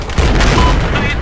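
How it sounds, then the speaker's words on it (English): Rocket launches and explosions in Battlefield 4, a dense continuous barrage of deep booms and blasts under excited voices, loud and sustained throughout. "Rockets away!"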